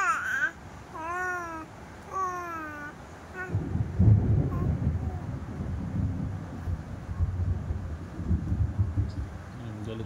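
A brief high, wavering voice, then a deep rolling rumble of thunder that swells and lingers through the rest of the clip.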